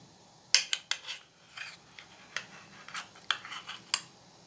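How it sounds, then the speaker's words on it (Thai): Cut egg tofu ladled into a pot of boiling water for a clear Thai soup, heard as a quick series of sharp metallic clinks and scrapes of a utensil against the pot, close up with no talking. "เราก็เอาเต้าหู้ไข่ที่เราตัดไว้เลยค่ะตักใส่นะคะเนี่ย"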